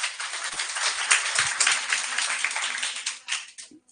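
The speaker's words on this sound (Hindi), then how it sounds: "ताली बजाना अलाउ नहीं है पागल।" Students clap together in a classroom, a dense, steady patter of many hands held for several seconds before thinning out at the end.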